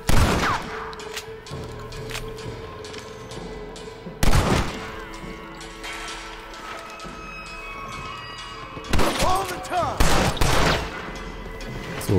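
Gunfire in the Red Dead Redemption video game on PC, loud bursts of shots at irregular intervals with heavy blasts, ringing over a steady background of game ambience.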